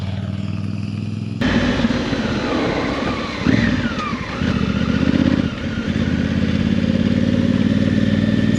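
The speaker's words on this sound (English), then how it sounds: "Oh, there's 2 more motorcyclists coming." Two motorcycles approach and pass along a dirt road on BC-31 between Nakusp and Kaslo in British Columbia, their engines revving loud and close over a steady rumble of background engine noise.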